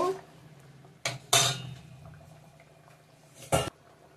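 A pan of thickened soybean, potato and pointed gourd curry takes an egg omelette, giving a few sharp clatters and scraping knocks of utensil against metal over a faint simmering background.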